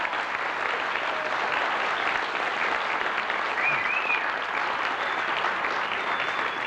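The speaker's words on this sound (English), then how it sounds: "I think we should give them a round of applause and thank them for coming." Sustained, even audience applause at a political reform network gathering, a dense steady roar of many hands clapping with no pauses, heard from within the hall.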